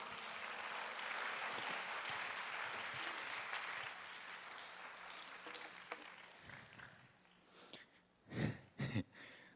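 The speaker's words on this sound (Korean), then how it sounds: "우리 박수로 환영하겠습니다." A church congregation at a university youth summer retreat worship service claps to welcome a speaker, a soft, distant, sustained patter that fades out and gives way to a few louder nearby sounds and breaths.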